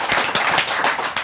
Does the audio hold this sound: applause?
yes